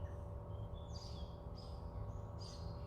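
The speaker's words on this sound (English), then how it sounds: "You can hear the birds." Birds chirp outdoors in short, faint, repeated calls at a distance, set against a steady low hum in the background.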